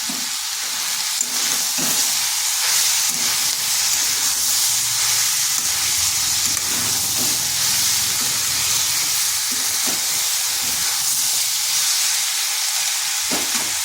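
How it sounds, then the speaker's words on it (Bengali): Ginger paste and two green chillies frying in a pan for a pumpkin dish, a steady close sizzle and hiss that runs on without break, with faint stirring scrapes now and then. "দিয়ে দিচ্ছি আদার পেস্ট আর 2টো কাঁচা লঙ্কা।"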